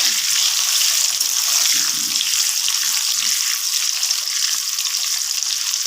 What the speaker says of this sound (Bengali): আলুগুলো যতক্ষণ না ভাজা হচ্ছে